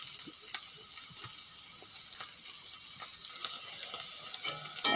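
Flat beans and slit green chillies frying in a pan, a soft, steady sizzle and hiss with faint scattered clicks from a spatula and a small tap at the end.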